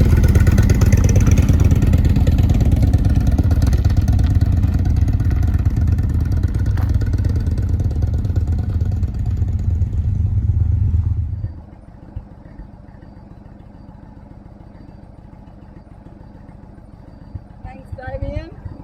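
A motorcycle engine runs loud and steady with rough, revving tones, then cuts out abruptly partway through, leaving faint background and a few small clicks. A voice talks over the engine.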